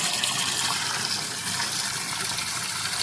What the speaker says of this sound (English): So we're going to fill it up, and we're going to see if we have any leaks